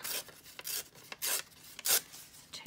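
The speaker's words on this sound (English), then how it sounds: "So I'm going to tear" Paper is torn by hand for a craft cluster in a run of short, crisp ripping strokes, several tears close to the microphone with small pauses between them and no talk.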